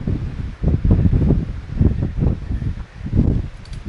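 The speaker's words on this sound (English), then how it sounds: "Oh man, it is super windy." Strong wind gusts on a mountain ridge near the Sandia Peak tram outside Albuquerque, heard as a deep, close buffeting roar that swells and dips in irregular pulses throughout.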